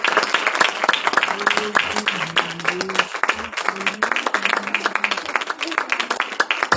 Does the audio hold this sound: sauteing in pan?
no